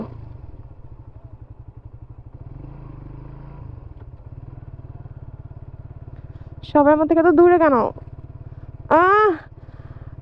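Motorcycle fitted with IRC tyres riding over loose beach sand at Kuakata, its engine a steady low throb throughout while a voice speaks over it in bursts.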